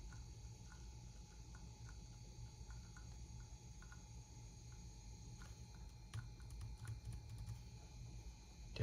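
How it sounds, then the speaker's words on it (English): Keys tapped on the keyboard of an iBook G3 Clamshell laptop, a string of light, irregular clicks and a few firmer presses, quiet and close over a low background hum, with no voices. "Let me see if I can get a response out of keys."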